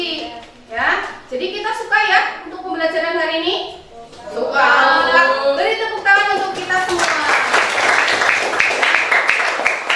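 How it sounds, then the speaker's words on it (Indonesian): An audience in a classroom lesson claps, a dense patter of hands rising after a stretch of talking and children's voices and continuing steadily to the end. "Beri tepuk tangan"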